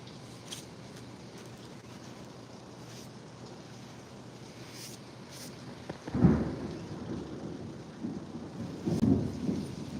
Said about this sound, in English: Y'all hear that? It is pouring.